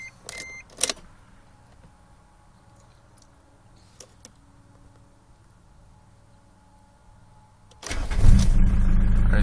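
A Mitsubishi Pajero with a stalling problem cranks and fires up near the end after a few quiet clicks and knocks, the engine catching loudly and running close by; no one speaks.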